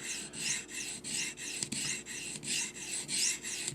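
A knife blade is drawn across the rods of a Lansky Turn Box sharpener with light pressure, a quiet, close rasping scrape repeated in an even rhythm of about eight strokes.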